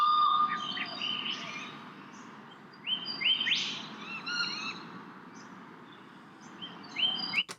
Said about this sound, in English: this next piece of audio here, it's basically the Australian bush.